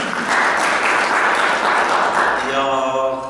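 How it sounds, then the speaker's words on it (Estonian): Audience clapping at the opening of a conference session in Estonia, a dense steady burst of applause from a crowd that fades as a voice begins speaking near the end. "Nii, võib plaksutada küll."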